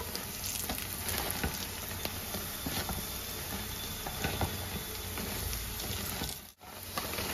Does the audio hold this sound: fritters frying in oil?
yes